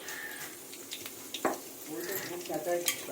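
Nigella seeds (kalo jeera) hit hot oil in a heated pan, giving a continuous crackling sizzle with sharp pops and faint stirring clatter close by, moderately loud throughout.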